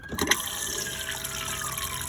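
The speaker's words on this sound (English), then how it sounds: "Push down on this to get your flush fluid pumped round, so I'll just show you that." Flush fluid pumped through the toilet of an Auto-Sleeper Talisman motorhome: a few clicks of the pump, then a steady rushing gush of liquid that carries on evenly and close by.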